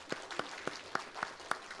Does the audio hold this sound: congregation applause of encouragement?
yes